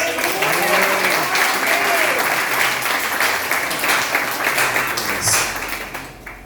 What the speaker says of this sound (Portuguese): Aleluia, salva de palmas.